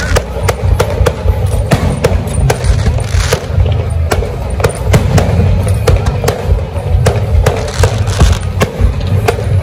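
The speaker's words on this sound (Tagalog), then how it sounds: "fireworks for Chinese New Year." Chinese New Year fireworks crackle and pop in rapid irregular bursts, loud and close, over a dense rumbling background that runs throughout.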